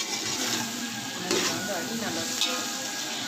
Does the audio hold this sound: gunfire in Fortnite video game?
no